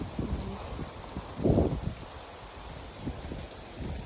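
Wind rustles steadily across a hilltop farm, with soft gusts and buffeting against the microphone, fairly faint and with no talking.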